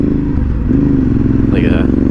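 A Ducati Monster S2R 800 motorcycle engine idles and burbles at low RPM, a steady, loud, deep rumble running throughout, with a brief higher tone rising over it near the end.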